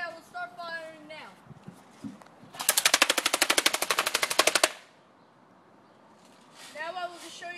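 An AK74U airsoft gun fires a two-second full-automatic burst of rapid, evenly spaced loud cracks, close by in a garage, with someone talking before and after the volley.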